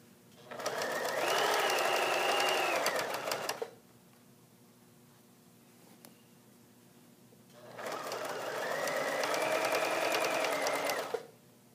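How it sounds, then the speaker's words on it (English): Sewing machine straight-stitching a hem, running in two steady bursts of rapid even stitching that are close and clear, with a quiet pause between them. "So you're going to continue to sew all the way around until you get to your original stitching."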